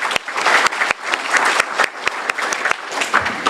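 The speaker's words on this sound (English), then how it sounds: "So just wanted to go ahead and give her a round of applause for her presentation." A room of listeners at a Kiwanis 4-H speech contest claps for a young presenter; steady, close, even applause runs throughout.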